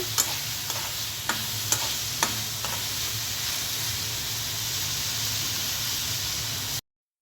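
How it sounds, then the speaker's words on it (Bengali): Prawns being stir-fried in a pan give a steady, close sizzle and hiss, broken early on by a few sharp clicks of a utensil stirring against the pan, with no talking. "আর চিংড়ি মাছ রান্না করছি।"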